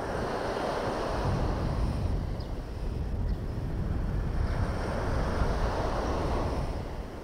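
Sea waves roll in at Plaridel, Misamis Occidental, a continuous rushing surf with two gentle swells under steady wind buffeting the microphone, and no voices.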